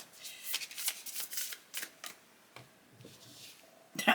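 Tarot cards are shuffled and drawn by hand, a series of crisp riffling and flicking bursts with short pauses between, close and clear, ending in a sharp snap of cards.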